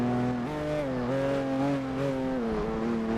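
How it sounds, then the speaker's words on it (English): A Pagani Zonda's engine in Test Drive Unlimited 2 drones at a steady pitch, rising and dipping slightly as the throttle shifts, with a smooth, sustained tone and no talk over it. "Maybe my Zonda won't sound poopy now."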